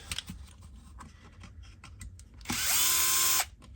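A power tool runs in one steady burst, loud and close, while the gearbox of an RC crawler is unbolted on a workbench. Faint clicks and taps come before it, and no one speaks.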